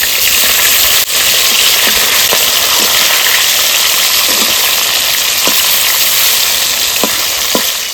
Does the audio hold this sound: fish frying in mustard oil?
yes